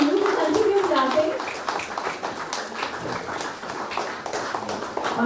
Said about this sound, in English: it's necessary for you to continue clapping